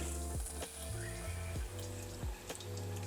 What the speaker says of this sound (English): I'm going to be adding about 2 tablespoons of very soft cream cheese, and I'm just going to whisk it around into our rendered fat.